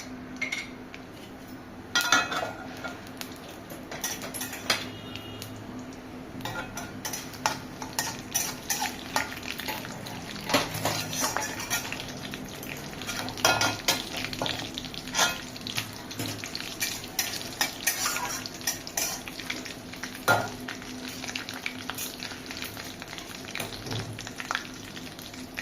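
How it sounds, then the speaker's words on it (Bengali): Dried red chillies and black cumin sizzle in a hot pan, a steady low crackle of frying broken by scraping stirs and clinks of a utensil against the pan. "এবার লঙ্কা জিরাটা ফ্রাই হয়ে গেছে"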